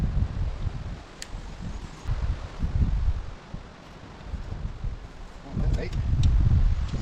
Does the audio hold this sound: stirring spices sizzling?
no